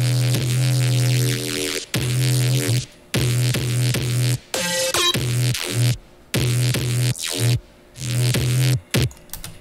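A distortion-processed synth patch played solo, loud buzzing sustained notes with a strong low hum, cut into choppy stop-start phrases with brief gaps and a bright glitchy burst in the middle.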